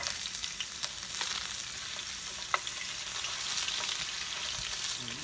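Ginger sautés in oil in a backyard cooking setup, giving a steady frying crackle with a few sharp pops, the loudest near the middle, and nobody speaking.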